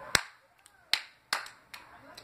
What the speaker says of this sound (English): So it's clap once, snap, clap three times.